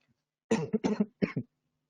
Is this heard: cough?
yes